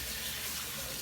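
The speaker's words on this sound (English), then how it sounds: "you're gonna take hot water and cover these potatoes" Hot tap water running steadily into a pot of chopped potatoes, a continuous close hissing splash with no break and no talking.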